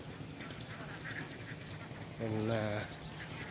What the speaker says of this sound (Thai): นี่ครับผมเป็ดเป็นฝูงอยู่ฝั่งนู้นอีก